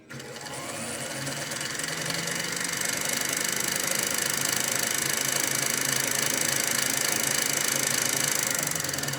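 A Singer 242 sewing machine winds a bobbin with a steady, close mechanical whir and rapid rhythmic clatter that builds quickly and holds constant throughout.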